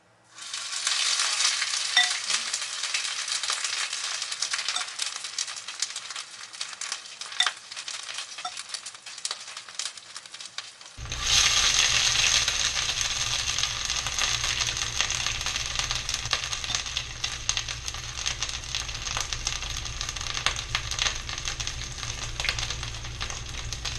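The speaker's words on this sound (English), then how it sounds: "I've got these frying at a temperature of medium." Keto cod fritters sizzle steadily in a pan over medium heat, a dense, continuous crackle of frying that grows fuller and louder partway through as more batter hits the oil.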